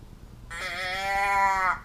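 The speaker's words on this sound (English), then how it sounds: "sheep noise" Sheep bleat sound from a small accessory in a KangaROOS sneaker box: a single electronic bleat lasting just over a second, wavering slightly, close and clear over faint room noise.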